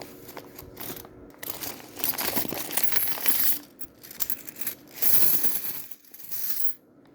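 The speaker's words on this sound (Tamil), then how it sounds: "உங்களுக்கு நான் காயினை பிரித்து கொட்டுறேன் பாருங்கள்." A pouch of one hundred PCM 5 rupee coins is poured out, producing clustered bursts of metallic jingling and clinking in several loud waves with brief pauses between them.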